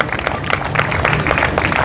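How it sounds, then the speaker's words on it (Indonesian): Congregation clapping for Jesus at a church revival meeting, a brief burst of many hands applauding at close range with no voices. "Berikan tepuk tangan buat Tuhan Yesus"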